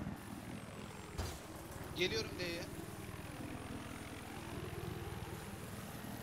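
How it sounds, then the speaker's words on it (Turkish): A continuous helicopter rotor chop and engine drone rumble throughout in the video game Battlefield 4, with someone speaking briefly in Turkish over it. "Helikopter düştü, helikopter."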